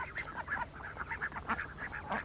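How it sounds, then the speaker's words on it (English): Farm ducks kept for digging, weeding and fertilizing wet bottomland plots call out in a steady run of overlapping quacks and honks, fairly close and continuous, with no talk. "The ducks do the job of a tractor in their digging, fertilizing and weeding."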